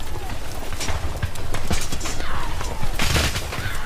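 Native soldiers fire volley after volley of gunfire amid a rumbling din, with sharp bursts of shots standing out over a dense background of hooves and commotion.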